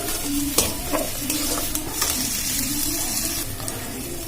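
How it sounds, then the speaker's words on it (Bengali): Vegetarian Mughlai snack mixture frying in a pan while being stirred, a loud steady sizzle broken by repeated scraping and knocking of the spoon against the pan. "এবার এটা খুব ভালো করে আমি নাড়াচাড়া করে ভেজে নেব"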